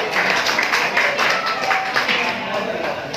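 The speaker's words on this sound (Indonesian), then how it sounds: "Tepuk tangan sekali lagi" Concert audience applause at a band performance: a steady, fairly loud wash of many hands clapping together, dense and even throughout.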